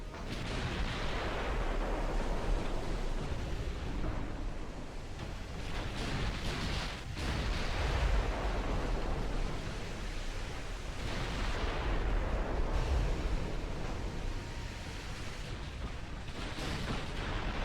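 Mortar guns firing in the naval video game Ultimate Admiral Dreadnoughts, heard as repeated deep booming blasts rolling into one another over a continuous rumbling battle din, loud and dense without pauses.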